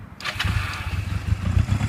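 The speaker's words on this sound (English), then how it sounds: "when you start the bike" A motorcycle engine cranks and catches on a cold morning, then settles into a low, throbbing idle that runs steadily to the end.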